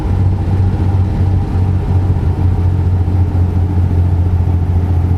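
Cummins 400 truck engine in a video game, a loud, steady low-pitched drone that holds constant with a deep rumble throughout and no voices over it.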